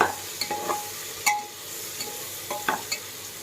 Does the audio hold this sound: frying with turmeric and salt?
yes